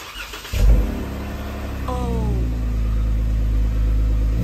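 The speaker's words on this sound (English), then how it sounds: "this is the after shot of the 2017 Jeep Wrangler Rubicon JKU with the Borla exhaust" A 2017 Jeep Wrangler Rubicon JKU with a Borla Touring exhaust cranks and fires up, its engine catching with a loud rev and then settling into a steady, deep idle rumble close by.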